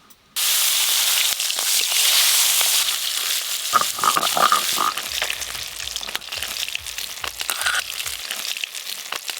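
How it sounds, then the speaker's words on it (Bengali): Bhola fish frying in hot oil: a loud sizzle bursts in abruptly and then settles into steady hissing, with scattered crackles and pops and occasional clatter as the pieces are turned. "এবার এই মাছগুলো ভেজে নেব।"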